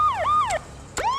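A loud, close emergency siren wails in rising and falling sweeps in the Seven Deadly Sins Grand Cross game, two swoops and then the start of a third.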